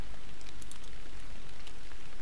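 Steady rain in the fishing game Fishing Planet, set at a Louisiana fishing spot at dawn: a dense, even patter of drops with a few brighter splashes, continuous and fairly soft, with no voices.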